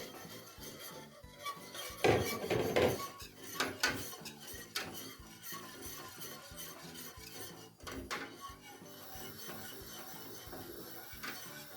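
Arabaşı soup is stirred in a pot, a metal spoon clinking and scraping against the sides in irregular bursts, fairly faint, with a busier cluster of knocks early on.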